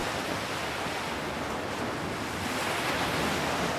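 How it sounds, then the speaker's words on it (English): Rough ocean surf roars in a dense, steady wash at a dock in front of a boathouse in an audio drama, loud and close, cutting off abruptly at the end with no voices. "he had to shout over the ocean's uproar"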